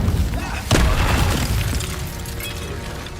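In Hogwarts Legacy, an Incendio fire spell bursts with a sharp booming crack followed by a roaring, crackling whoosh of flame that slowly fades.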